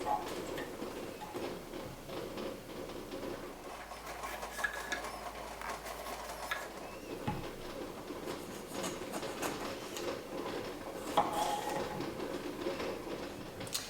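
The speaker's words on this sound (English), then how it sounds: "this recipe calls for about 4 bell peppers as well as 4 to 5 jalapeno peppers. So let's go ahead and get started chopping these." A knife chops bell peppers and jalapeno peppers on a cutting board, giving a steady run of quick, light taps over a faint kitchen background.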